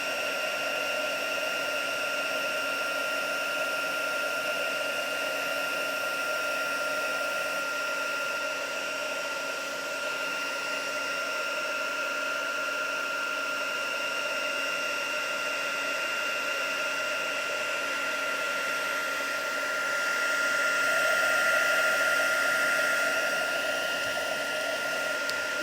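A heat gun blows steadily for heat embossing on handmade men's cards, giving a constant mid-level whirring hiss with a slight swell near the end and no voices.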